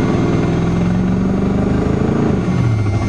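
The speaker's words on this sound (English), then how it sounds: "I can feel the drive wheel spinning" A 1976 Chrysler New Yorker with a 400 big-block engine revving steadily while its drive wheel spins in deep snow, a loud, close, droning engine note that dips slightly near the end.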